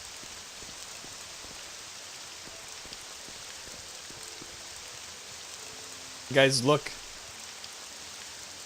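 Rain falling in The Elder Scrolls: Morrowind, a faint, steady hiss of drops with scattered light taps, broken near the end by a brief voice speaking.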